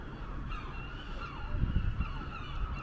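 Seagulls call repeatedly outside Liverpool Parish Church, Our Lady and St Nicholas, near the waterfront. Their harsh, overlapping cries sit over steady outdoor city rumble and grow louder and busier toward the end.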